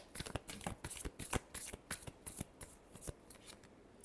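A tarot deck is riffled and shuffled by hand in quick bursts of crisp card flutter, close and alone, with brief pauses between passes.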